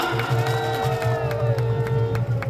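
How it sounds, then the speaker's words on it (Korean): Applause and scattered cheers rise from a crowd at an outdoor patriotic rally in Chuncheon, mixed with a loud sustained whistle-like tone and a rhythmic low thumping beneath, all close and busy. "네, 큰 박수 부탁드리겠습니다."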